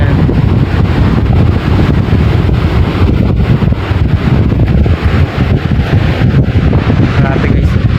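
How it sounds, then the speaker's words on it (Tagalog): Strong wind buffets the microphone on a seashore ahead of an evacuation, a loud constant rumble with gusty surges and possible surf beneath, with no clear talk. "Lakas ng hangin."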